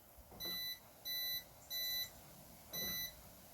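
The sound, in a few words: car alarm beeping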